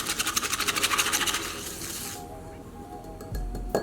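Matcha powder is whisked briskly with hot water in a bowl, a fast, even run of scraping strokes for about two seconds that then fades into softer rattling and a faint ringing tone.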